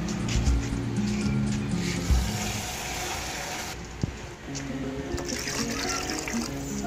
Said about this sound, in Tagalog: maglagay na rin tayo ng water